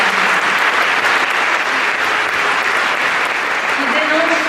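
A crowd at an award ceremony for secularism applauds Caroline Fourest, dense sustained clapping filling the room loudly, with a few voices audible beneath it.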